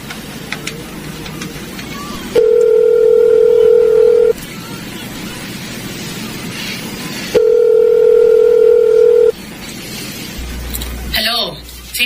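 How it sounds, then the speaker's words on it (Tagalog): A payphone gives two long steady dial-tone stretches separated by quieter pauses, followed by a short burst of dialing and handling clatter at the end, with background room noise throughout. "Mukhang merong payphone."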